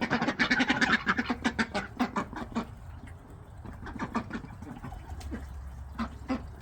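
A backyard duck flock quacks in a dense, overlapping chorus that is loudest at the start, then thins to scattered, intermittent quacks over a low background rumble.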